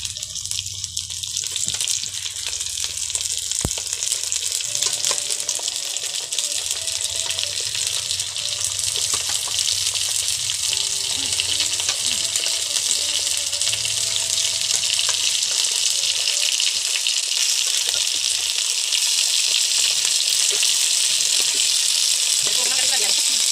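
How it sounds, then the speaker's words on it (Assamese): Chicken meat fries in a pan with a loud, steady sizzle that fills the whole stretch, with occasional stirring clatter and a voice talking faintly underneath. "এতিয়া এই মাংস দিয়া হৈছে, কুকুৰা মাংস"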